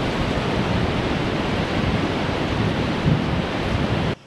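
Sea waves about two metres high surge and break on the Ordu coast in winter, a loud continuous roar of surf and wash with a constant hiss, heard alone without voices.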